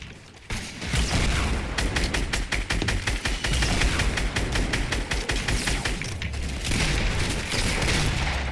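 Rapid automatic gunfire in the video game Fortnite, loud bursts of shots in quick succession with heavy booms underneath, continuing for several seconds.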